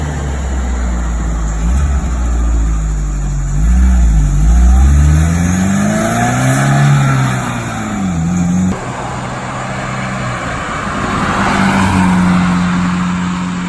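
A Porsche with a 2-liter inline-four turbo engine, 170 horsepower and a KKK K26 turbo, revs loud and close in Need for Speed Porsche Unleashed, its pitch rising and falling through repeated throttle sweeps and gear changes.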